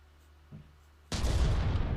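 A robot named fidget spinner fires its last shots in a video game, with a faint thump followed by a sudden loud burst of crackling gunfire that stays dense to the end.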